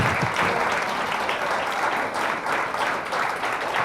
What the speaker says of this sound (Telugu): అందరూ ఒకసారి గట్టిగా చప్పట్లు కొట్టాలి